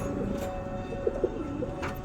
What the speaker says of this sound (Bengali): পায়রা একটু বদমাশ করছে,